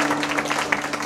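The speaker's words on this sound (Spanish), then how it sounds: "Fuertes aplausos a estos padrinos de la quinceañera," Applause and clapping for the godparents at a quinceañera celebration, a dense steady patter of many hands filling the short moment without any talk.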